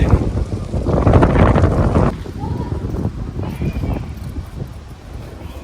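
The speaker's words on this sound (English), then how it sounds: "So windy." Gusts of wind buffet the microphone on a street in Valletta, Malta, a loud roaring rush that peaks early and then eases into softer, uneven blustering.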